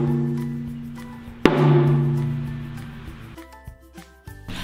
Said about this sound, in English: That's correct. It's the lollipop drum.